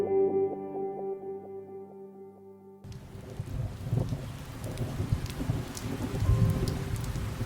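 Summer rain in Georgia falls steadily with low rumbling thunder building underneath, coming in after a few seconds of tonal music and growing louder toward the end.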